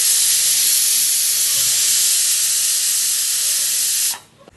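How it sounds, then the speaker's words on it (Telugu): A pressure cooker cooking chicken biryani vents a loud, continuous hiss of steam at its whistle, which cuts off abruptly near the end. "సో గైస్ విజిల్ వచ్చింది."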